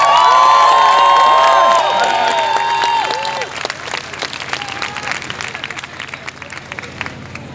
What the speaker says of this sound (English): Give TJ a big round of applause, please